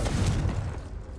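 Confringo explosive spell cast in Hogwarts Legacy, a single dull booming blast with a rumbling low-end burst that fades over about a second.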